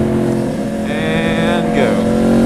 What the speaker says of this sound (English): Speaking of downshift, downshift, downshift, downshift.